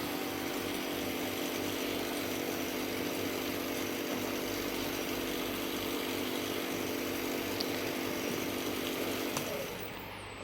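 A KarMetal 350KDG semi-automatic metal-cutting bandsaw runs with a steady, even motor hum and drone throughout, loud and close, with no talk, before it winds down at the very end.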